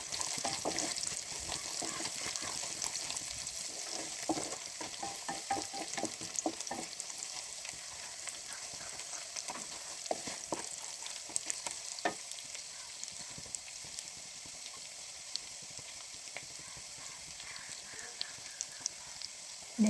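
Onions with salt sautéing in a pan while a beef fry is cooked, a continuous sizzle beneath irregular stirring scrapes and taps, close and even in level, with no voice.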